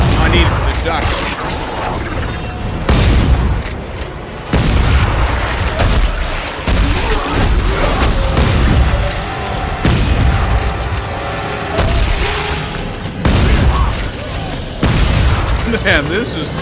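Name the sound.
upgraded shotgun firing in video game Dead Space 3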